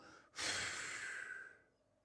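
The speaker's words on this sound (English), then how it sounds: "a long, slow, extended exhale through your mouth. Almost like you're breathing through a straw" One long, slow breath pushed out through the mouth, a close, soft airy rush that holds steady for over a second before fading away.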